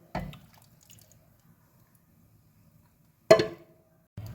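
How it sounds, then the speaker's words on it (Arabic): A homemade spice marinade poured over sliced chicken breast makes a few short, wet splats and squelches separated by quiet stretches, close by and with no voices. "نزلت بالخليط بتاعي كده."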